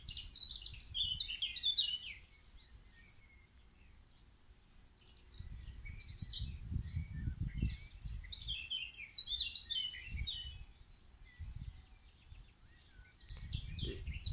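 Birds sing outdoors in bursts of high chirps and trills, moderately near, over a low rumbling wind or background noise, with no speech.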